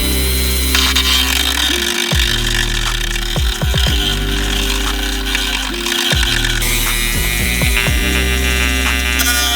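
A power tool cuts a ring off an expensive engine timing cover, whirring loudly up close and repeatedly spinning up and winding down in short bursts with gear-like ratcheting.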